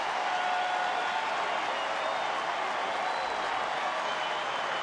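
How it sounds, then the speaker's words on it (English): Baseball crowd at a Twins–Tigers game in Detroit cheering and applauding on a 3-2 count, a steady, dense roar of many voices and clapping filling the whole stretch without a break. "Crowd getting into it now."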